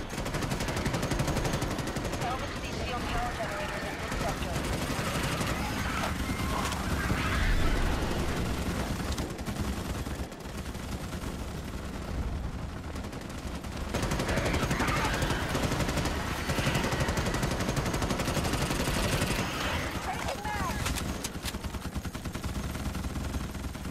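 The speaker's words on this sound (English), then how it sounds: "There's a whole lot of friendly fire going on." Dense, continuous gunfire rattles through a Starship Troopers: Extermination multiplayer battle on Xbox, with overlapping automatic bursts and heavy shots forming a loud, chaotic barrage with only brief lulls.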